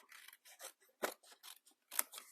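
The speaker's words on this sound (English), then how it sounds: "Cut these down a bit because it won't go through quite as wide as it is." Scissors snipping through card pieces for a country bird house gift box, a quick series of close crisp cuts, several short snips with one or two louder chops, no talking.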